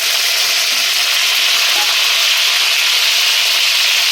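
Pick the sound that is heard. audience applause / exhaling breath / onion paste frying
onion paste frying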